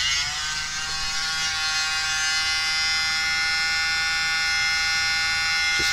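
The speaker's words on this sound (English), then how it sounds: "Okay, mini blower." A small electric mini blower runs steadily for the whole stretch, giving off a constant high whine with a low hum beneath it. It is close and fairly loud, and it is used to fan Cell Activator across wet paint colours.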